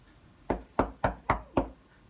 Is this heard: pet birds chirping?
no